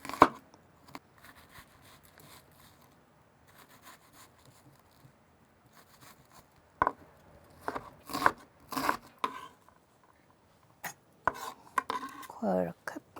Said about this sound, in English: So I need a 1/4 cup onion for 1 can of tuna, just a 1/4 cup, chop it up.